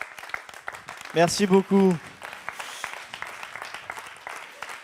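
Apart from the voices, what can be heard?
audience applause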